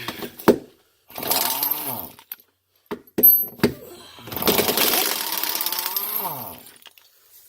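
A power tool works the 15mm cross member bolts loose on a 2017 Dodge Charger 392 Daytona, loud close bursts of whirring that rise and fall in pitch, separated by clanks and short pauses.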